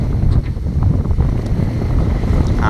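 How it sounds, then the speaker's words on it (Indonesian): Strong wind roars across the deck of a heeling sailing boat at sea, a loud, constant gusting rush buffeting the microphone with low wave wash underneath and no voices. "Angin makin kencang"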